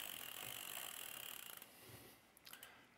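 Small Shimano tool snugging a part while installing a bicycle power meter; faint, close-up ratcheting clicks over quiet hiss, with a few sharper ticks near the end and no talking.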